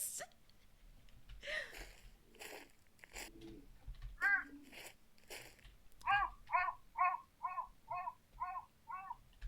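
Crow cawing outdoors, several scattered calls followed by a rapid run of about seven loud rhythmic caws, with a faint voice early on.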